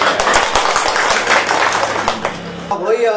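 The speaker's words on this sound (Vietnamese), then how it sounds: "vỗ tay." A burst of hand clapping from guests at a Central Highlands wedding ceremony in Vietnam, dense and lively for a few seconds before fading as voices take over.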